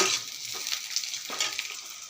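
Sliced onions frying in a pan at the start of a chickpea and potato curry: a close, steady sizzle with crackling spits and occasional stirring scrapes, no voices over it.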